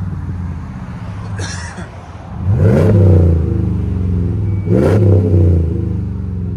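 A car fitted with a Flowmaster Signature Series exhaust revs twice, each blip rising into a deep, throaty burst over a low idle rumble, heard fairly close.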